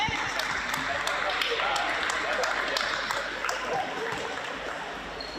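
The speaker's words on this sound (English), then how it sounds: "Big round of applause" An audience at a Basketball ACT Premier League 2 men's grand final presentation applauds the season's leading scorer with steady, dense clapping that stays fairly faint and distant throughout.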